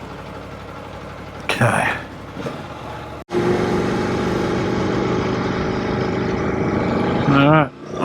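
An Aprilia Tuono V4 1100 Factory motorcycle idles with a steady, loud engine drone, the pitch briefly rising in a rev near the end, while a rider speaks a word over it.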